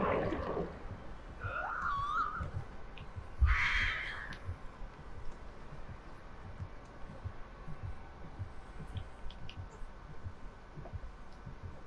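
Crows caw several times in the first four seconds in the Dead by Daylight video game, hoarse and fairly close, before fading to a low, quiet background with soft thuds.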